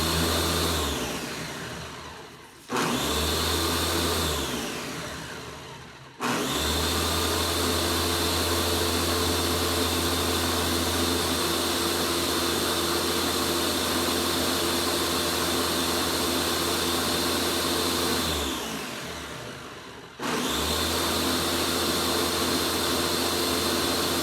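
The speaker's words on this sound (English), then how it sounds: "my blender automatically stops for a smoothie" A kitchen blender whirs loudly as it blends a smoothie, running in long steady bursts that stop and restart twice, each spin-down dropping briefly before the motor roars again.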